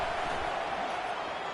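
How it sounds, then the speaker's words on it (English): A dense stadium crowd roars steadily at a college football game between Wisconsin and Stanford, a broad continuous wash of cheering with no breaks. "Listen to this crowd just shaking the girders of this place,"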